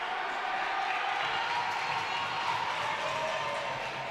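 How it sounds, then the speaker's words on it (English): Hockey crowd at a high school varsity game between Connetquot-Sayville and East Islip roars and applauds steadily after a goal, a dense, continuous wash of cheering and clapping at moderate distance. "this crowd has gone bananas"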